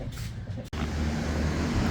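A supercharged HQ one tonner engine runs rich, a close, steady low rumble that drops out for an instant and then continues loud and unbroken.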